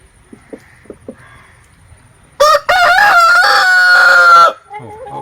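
A loud, close rooster crow rings out for about two seconds, preceded by a few soft clucks and followed by a brief quieter call.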